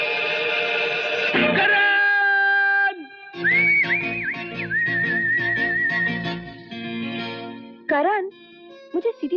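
A person whistles clear, sustained tones and sliding melodic phrases, loud and close, with brief pauses between runs and a few warbling rises near the end.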